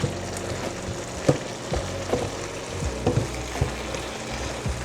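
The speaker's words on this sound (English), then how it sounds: "stir it around some in here, ensuring that all pieces get down in here" Chicken and rice frying in a pan while being stirred, with a steady loud sizzle and repeated scraping, clinking stir strokes spread across the whole stretch, no voices.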